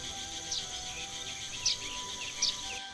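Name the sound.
cuckoo call in The Night of the Rabbit video game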